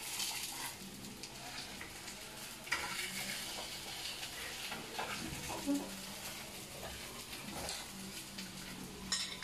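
Meat sizzles steadily in a hot frying pan while it is stirred and turned over, with scraping utensil contacts, cooking a typical dish of San Vicente del Caguán, Caquetá, Colombia.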